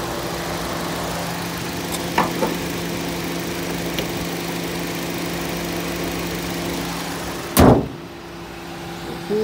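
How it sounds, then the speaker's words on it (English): A 2014 Ford Transit Connect engine idles with a steady low rumble, close and constant, interrupted by a couple of brief clicks and a louder thump near the end. "I got this vehicle running here."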